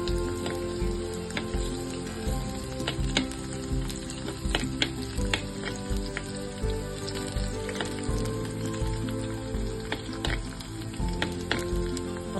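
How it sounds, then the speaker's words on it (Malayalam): Fennel seeds, ginger and garlic sizzle and crackle steadily in hot coconut oil, a close, continuous frying hiss with small pops and occasional stirring, and no talking. "ഈ വെളിച്ചെണ്ണ ചൂടായി വരുമ്പോൾ ഇതിലേക്ക് കുറച്ച് വലിയ ജീരകം ഇട്ട് കൊടുക്കുന്നുണ്ട്"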